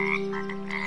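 A frog at a small village pond croaks in one sustained, buzzing call, close and steady for under a second with no other sounds.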